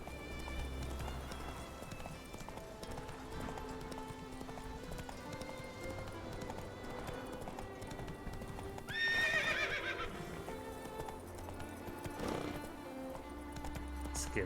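Roach the horse, in a video game, clip-clops along on hooves in a steady rhythmic gait, with a whinny partway through and a faint voice under it.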